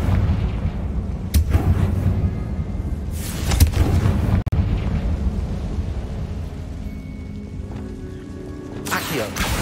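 The Confringo blasting spell from Hogwarts Legacy goes off in several loud booming explosions a few seconds apart, with a rumbling game background and talking around them.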